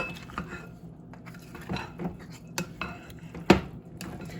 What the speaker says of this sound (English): I like to just stir it up to get the curry marinated, get the curry all over it.